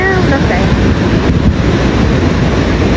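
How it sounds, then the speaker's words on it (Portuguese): Strong cold wind buffets the microphone on a beach at Florianópolis, a loud steady roar with rough sea surf churning beneath it, and a voice talks briefly at the start. "Tá um ventão gelado, gente."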